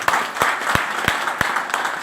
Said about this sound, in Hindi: चाहूंगा एक जोरदार ताली बजा दे।